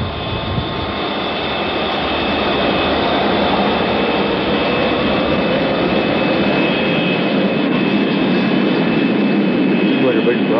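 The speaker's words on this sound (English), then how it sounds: "Maiden One cleared for takeoff." Aircraft engines roar through a takeoff roll as a loud, sustained jet rumble that builds slightly and stays dense throughout, with voices faintly mixed underneath.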